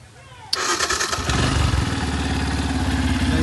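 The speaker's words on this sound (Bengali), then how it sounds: "বাইকটার সাউন্ড দেখাই দিই" Yamaha FZ-S V3 Deluxe motorcycle, a 2024 model, cranks with a sudden burst and catches into a steady, throbbing idle, loud and close with no other sound.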